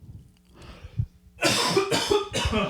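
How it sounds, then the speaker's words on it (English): A few soft throat sounds lead into a loud, close burst of three harsh coughs in quick succession. "coughing on my own sadness"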